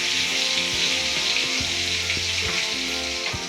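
Two medium onions with salt sizzle steadily in hot oil, a dense continuous frying hiss close to the pan with faint stirring clinks and scrapes scattered throughout.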